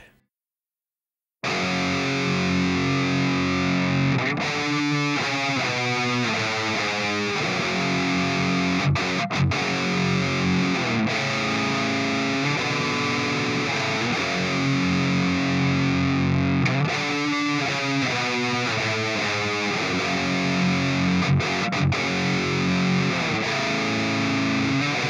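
Heavily distorted riffs from an Ibanez Iron Label RGAIX7U seven-string electric guitar, loud and continuous after a short silence, with chugging palm-muted patterns and sustained chords played alone.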